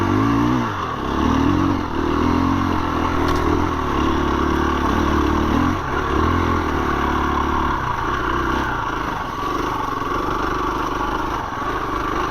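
A 2021 KTM 350 EXC-F motorcycle lugging up a single-track dirt hill in second gear on stock gearing, a loud, close, steady engine drone with slight rise and fall and some clatter throughout.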